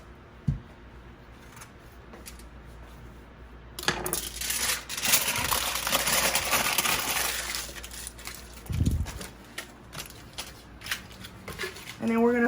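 Aluminum foil crinkles and rustles as it is wrapped around potatoes for baking, with a dense, bright crackling texture from about four seconds onward after a quieter start, broken by a few louder handling bumps.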